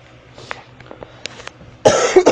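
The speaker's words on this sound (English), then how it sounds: "these coughs just won't go away" A single harsh cough bursts out near the end after some quiet, faint clicks and rustling.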